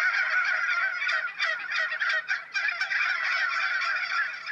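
Bronze turkeys on a farm in Sallins cackling together: a dense, continuous chorus of nasal honking calls from many birds, fairly close.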